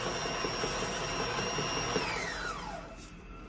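A stand mixer beats cake batter with sprinkles, a steady loud motor whir with a high whine that holds, then slides downward in pitch as the motor slows near the end.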